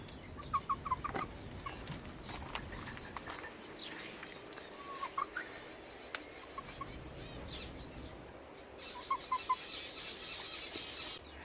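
Nine-week-old silkie chickens cluck softly and chirp in short bursts of two or three notes against quiet rustling, close by and fairly faint.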